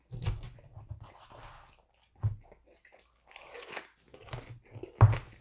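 Crunchy curly fries, dipped in a cold Frosty, crunched and chewed close up in a few separate bursts, with quiet gaps and soft mouth sounds between bites.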